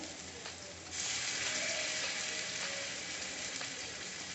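Steady, close sizzling and crackling of banana stem kofta frying in oil in a deep frying pan, growing louder after the first second and continuing evenly with faint clinks.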